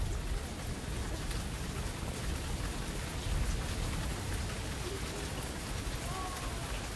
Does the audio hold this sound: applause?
no